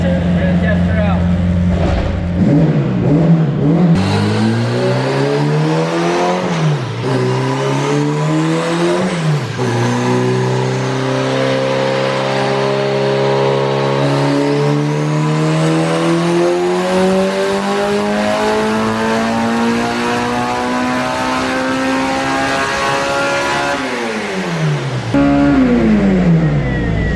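A Dodge SRT-4's engine runs and revs loudly after a new crank sensor, the pitch sweeping up and down through repeated throttle blips, with a voice talking over it.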